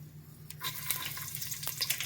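Chopped onions sizzling in hot oil for a Telangana-style fish curry, a steady soft crackle and hiss heard close up without any talking.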